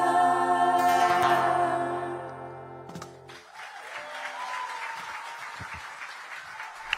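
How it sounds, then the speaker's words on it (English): Crowd applause at the finals of a singing competition, rising in a loud, dense wash of clapping after the sung music cuts off and continuing steadily to the end. "a thunderous applause from the crowd here"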